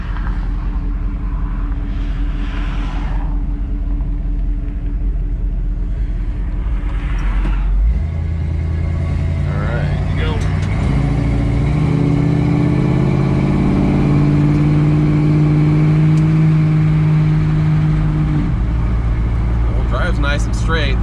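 Steady loud car engine and road rumble from inside a moving vehicle, rising in pitch as it accelerates mid-way, with occasional talking over it.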